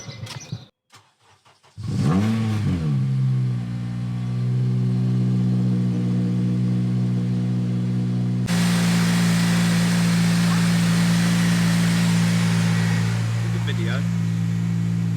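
A Honda Civic Type R engine and exhaust fire up after a few clicks, then settle into a loud, steady droning idle that rises in pitch as the engine revs and holds high, close to the car.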